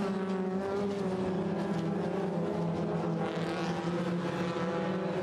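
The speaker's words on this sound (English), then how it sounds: "Cars pouring their way up towards the hairpin at Druids." Sports 2000 race cars at Brands Hatch climbing toward the Druids hairpin, a dense, continuous roar of several engines layered together, loud and steady throughout with no voices.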